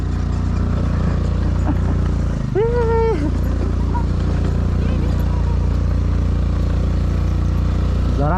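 An NS motorcycle climbing an offroad uphill track, its engine droning loudly and continuously up close, with a voice and a brief wavering tonal call partway through.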